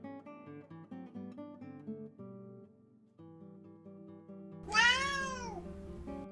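A cat lets out a single loud, drawn-out meow near the end, rising over soft melodic background music that plays throughout.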